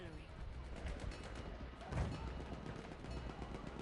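Battlefield 1 artillery fire during a multiplayer match, a distant booming thud rising out of continuous battle noise and scattered gunfire, with a voice talking over it.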